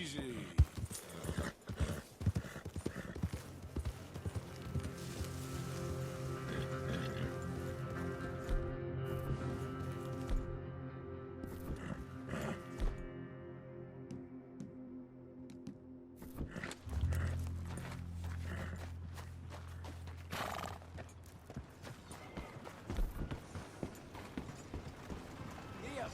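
Horse hooves clopping in Red Dead Redemption 2, a rhythmic clip-clop of a mount moving at pace beneath ongoing talk and game sounds, with occasional creaks of tack and a brief snort.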